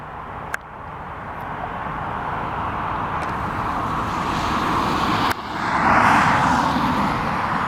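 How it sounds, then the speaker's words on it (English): A Boeing 737 MAX jet airliner arrives at Portland airport, a broad roaring engine noise that swells and grows louder toward the end, heard from a distance alongside airport ambient noise. "We got this arrival. What appears to be a 737 MAX 8 or a MAX 9."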